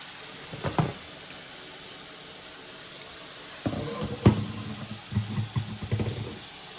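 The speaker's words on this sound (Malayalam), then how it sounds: "അപ്പം എനിക്ക് റോസ്റ്റ് ചെയ്യാനാണ്, ലൈക്ക് ഷാലോ ഫ്രൈ ചെയ്യാനാണ് ഉദ്ദേശിക്കുന്നത്." Eggplant (brinjal) pieces shallow fry in a pan, a soft steady sizzle with occasional louder bursts of spatter and stirring clatter.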